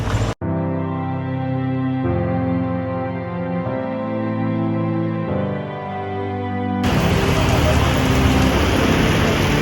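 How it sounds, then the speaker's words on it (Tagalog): Heavy rain pours down in Naga City. A loud, dense roar of downpour takes over suddenly after a stretch of steady droning hum and continues to the end. "sumilong muna tayo kasi sobrang lakas ng ulan"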